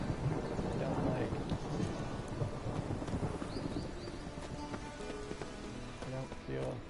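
Thunder rumbles low and continuous beneath steady rain spattering on surfaces during a storm in the video game Witcher 3, a dense, even wash of sound with a faint clip-clop tapping in the mix.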